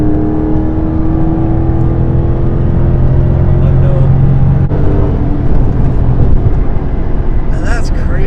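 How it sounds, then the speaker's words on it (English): Dodge Charger Scat Pack 392 with an eight-speed transmission accelerating hard, a loud continuous engine drone that climbs in pitch, drops briefly at a gear change midway, then keeps rising, heard from inside the car. "the car keeps on pulling like the whole way through the power band"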